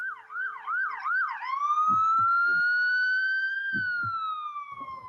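Ambulance siren passing on a city street, a fast warbling yelp that switches to a long rising and falling wail, loud and close, with faint road sounds beneath.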